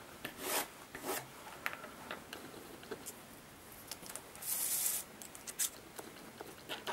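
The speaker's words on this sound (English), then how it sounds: "a good approach which engineers use and modelers is to rub your file with a piece of chalk" A metal modelling file is rubbed with a piece of chalk, producing close, quiet rasping strokes in an irregular rhythm, with a few short scratchy bursts and soft ticks between them, and no talk.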